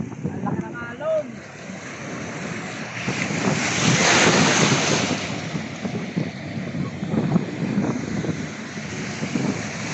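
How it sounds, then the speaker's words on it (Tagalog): Big ocean waves roll and wash at a beach resort in Tanza, Cavite, a continuous roar with heavy wind buffeting the microphone, and people talk over it. "Kaya naman ang laki ng alon!"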